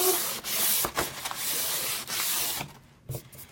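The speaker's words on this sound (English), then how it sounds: "I'm just going to give the whole thing just a really light sanding." Steady scratchy rubbing of sandpaper lightly sanding a cabinet door, in long back-and-forth strokes with brief pauses, close by.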